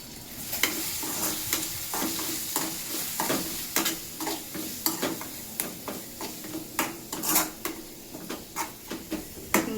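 A spice tempering sizzles in oil in a pan while a spoon scrapes and stirs it in repeated, rhythmic strokes, close and clear, during North Karnataka cooking. Nobody speaks.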